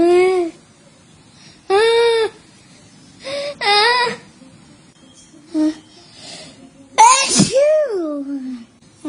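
Three exaggerated sneezes voiced by a storyteller imitating a girl sneezing, each a loud, close, rising "achoo" separated by short pauses, with brief breathy sounds between them.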